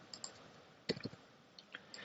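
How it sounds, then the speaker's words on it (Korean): Sparse, quiet clicks of a computer keyboard being typed on, a few scattered keystrokes with one short quick burst in the middle, faint and with no talking. "자, 그러면 이제 본격적으로 타이핑 들어갈게요."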